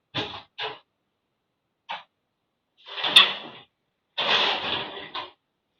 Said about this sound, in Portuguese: o cachorro fica batendo na porta aqui